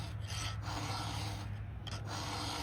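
Hand file rasping along a chainsaw chain's cutter tooth, a faint, quiet rhythmic scraping in short strokes over a low steady hum.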